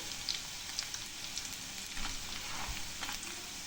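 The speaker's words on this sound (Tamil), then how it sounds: "நான் பச்சை மிளகா ஒரு மூணு போட்டிருக்கேன் அதோடவே சேர்ந்து நல்லா வதங்கட்டும்" Three green chillies sautéing in a pan for a mint, coriander and curry leaf thuvaiyal, a faint continuous crackle and sizzle with a few light stirring clicks.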